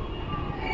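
A train departs from Larisa railway station in Romania, giving a steady rumbling roll with a faint high whine, continuous and fairly loud throughout a very short stretch, with no talk.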